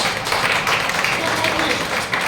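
Dense, steady applause from an audience at a real estate group business event, sustained clapping filling the whole moment at a loud, even level without a break.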